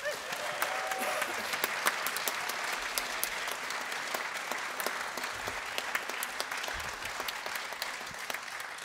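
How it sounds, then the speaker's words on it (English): Audience applause at a live world and folk music concert in a hall, a steady wash of many hands clapping at moderate distance with sharper individual claps standing out, no talking over it. "So I think another round of applause for the"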